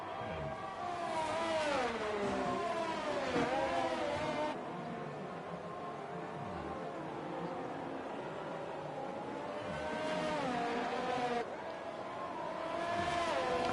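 Race cars in an esports racing video game at the Japanese Grand Prix drone and whine past under a safety car period, engine pitches rising and falling in sweeping passes, with commentators talking over the steady engine noise.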